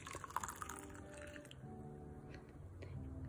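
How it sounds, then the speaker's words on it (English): Cooled water is poured over green tea leaves in a cup, a faint, soft trickle with light drips close by, heard alone. "So we'll just pour that in"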